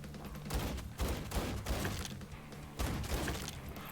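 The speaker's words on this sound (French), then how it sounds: "Ça, c'est une grenade." Grenade blast in the video game Blood & Teef: a dense, loud stretch of crackling explosions and thuds that rumbles on continuously with sharper bursts near the start and middle, and no talk over it.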